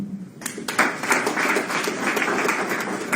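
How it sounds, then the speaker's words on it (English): Scattered hand clapping from a small group at a property sales class, a run of sharp claps that settles into steady applause lasting a few seconds. "I will clap for him."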